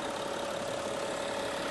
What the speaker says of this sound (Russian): Мотор работает, видите, просто изумительно.